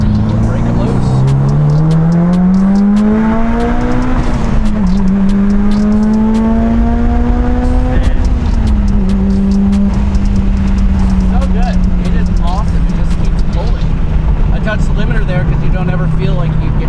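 A turbo-upgraded Mitsubishi Evo 9 engine pulls hard under sustained acceleration, its loud rising drone climbing through the revs in steady surges, with a brief shift dip and people talking over the noise.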